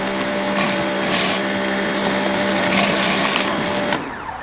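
An Ava Go P55 power washer spraying water onto paving slabs, a loud steady hiss with a constant motor whine and slight surges, running alone before cutting off near the end.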